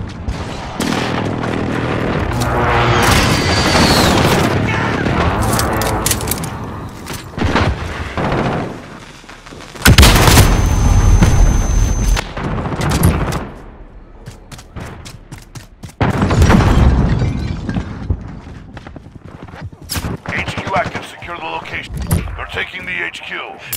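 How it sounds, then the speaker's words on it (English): Precision airstrike explosions and gunfire in Call of Duty: Modern Warfare mix steady shooting with two heavy, loud blasts several seconds apart, while voices talk over the combat. "Friendly precision airstrike on the way."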